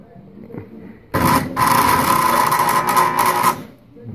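A homemade wood chipper driven by a hand-held skill saw spins up suddenly, giving a loud, steady whirring drone with a high whine that runs for a few seconds before cutting off.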